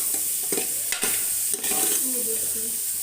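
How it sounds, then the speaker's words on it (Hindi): Large cauliflower florets sizzle and fry in a pressure cooker while being stirred, a steady hiss broken by a few sharp scraping clacks of the spoon against the pot. "तो अभी से मैं इसमें गोभी डालूंगी फ्राई होने के लिए।"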